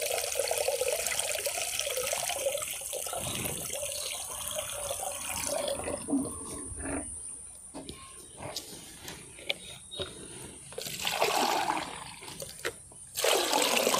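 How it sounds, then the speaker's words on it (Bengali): Plain water is poured continuously and mixed into liquid plant fertilizer, giving a steady close splashing flow with gurgles and a few brief surges near the end. "একদম সাদা জল মিশিয়ে নিলাম।"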